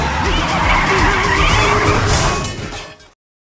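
A car skids hard to a stop, with a long, loud tire squeal over engine roar that fades out abruptly after about three seconds.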